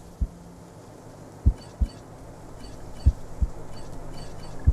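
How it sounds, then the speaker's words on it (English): The heartbeat sound effect in the video game Wasteland 3 thumps in irregular low pulses over a steady hum and background noise, a few beats spaced a second or so apart. "I have to put up with the bloody heartbeat"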